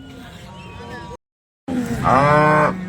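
A cow at a weekly cattle market in Sangola moos once, loud and close, a long low call after a brief gap, with someone talking and market noise around it.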